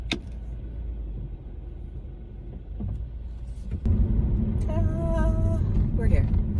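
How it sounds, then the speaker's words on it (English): A car engine turns over and settles into a steady low rumble that swells as the vehicle pulls away, with road noise and faint voices mixed in. "let's fire this baby up and drive on down there"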